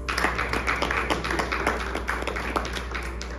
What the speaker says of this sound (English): Please welcome Sachin with a big round of applause.